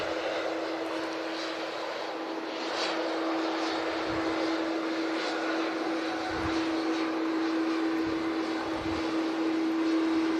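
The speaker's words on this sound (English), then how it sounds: "As this Gulfair Dreamliner starts its takeoff roll" A Gulf Air Boeing Dreamliner begins its takeoff roll at Manchester Airport, its engines giving a faint, distant, steady roar with a constant hum running through it.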